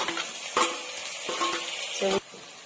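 Chopped onions and tomatoes sauté in a pan for a banana flower egg stir-fry, a steady sizzle broken by several sharp spatula scrapes and stirs against the metal, with no talk.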